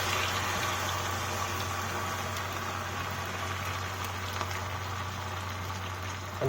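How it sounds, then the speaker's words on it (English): Steady hissing and bubbling of corn flour batter frying in hot oil, a constant sizzle with a low hum underneath and no voices. "Now frying the corn flour in the oil."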